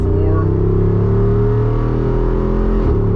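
A Jeep Wrangler 392 V8 engine pulls hard through manual gear shifts, a loud, steady, close rumble with rising harmonic tones and a brief dip near the end as a shift occurs.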